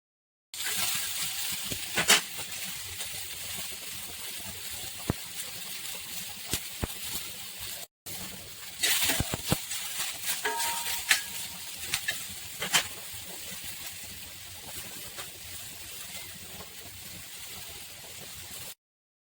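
Tomato and chili frying on a flat pan, a soft continuous sizzle and hiss with occasional sharper crackles and a brief break partway, no talking.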